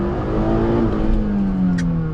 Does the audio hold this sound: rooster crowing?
no